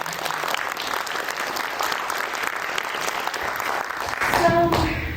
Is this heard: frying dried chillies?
no